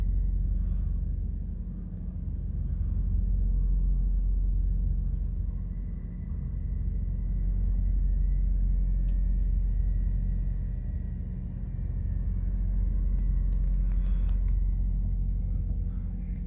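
A tow truck and passing road traffic make a steady, low, fairly faint rumble that swells and fades slightly for over fifteen seconds, with no voices.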